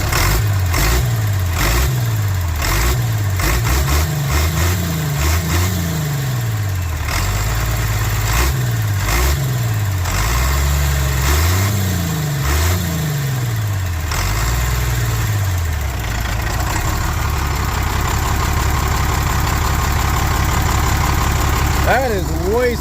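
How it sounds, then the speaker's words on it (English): Truck engine just after a fuel pump rebuild, idling with repeated throttle blips that rise and fall in pitch, then settling into a steady idle, loud and close. "We'll give her a little throttle here."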